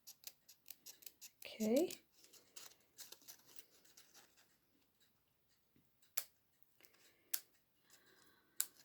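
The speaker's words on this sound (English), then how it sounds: "I'm just going to come in and fussy cut this." Scissors fussy cut paper card for a birds-in-branches box card, with a quick close burst of snips early on, then sparse light clicks and taps; a voice briefly speaks.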